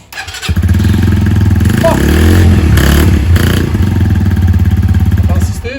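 Brixton Felsberg 125 motorcycle engine starting up and idling close by, a steady loud thrum with a couple of light throttle blips in the middle and a short word spoken over it at the start.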